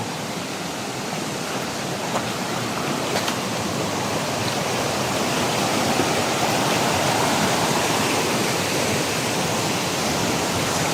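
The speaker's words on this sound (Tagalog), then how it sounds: "kung nakikita nyo yung rumaragasang tubig na yan na nanggagaling sa itaas ng bundok" Loud, steady roar of rushing water pouring down a mountainside in a forest, a continuous broadband wash with no breaks and no voices.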